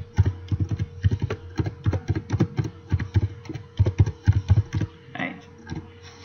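A computer keyboard is typed on in quick, irregular bursts of close, crisp keystrokes, with a brief pause near the end and a steady low hum underneath.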